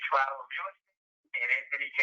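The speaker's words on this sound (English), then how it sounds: "then we're gonna dial that phone number" A phone number is dialed on a telephone, giving clipped bursts of tones separated by a brief silence, thin and close.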